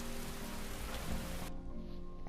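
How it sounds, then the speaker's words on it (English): Steady modded rainfall in the Skyrim video game, a dense hiss of rain on surfaces throughout, close and even, with the high end dropping away near the end. "Because it doesn't rain like this in Skyrim normally."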